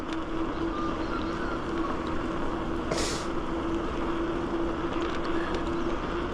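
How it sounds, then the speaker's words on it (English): A constant low engine rumble and drone of a diesel train passing near a bayside bike trail in Melbourne, with a brief hissing burst midway. "It's not an electric train service here. I think it's diesel."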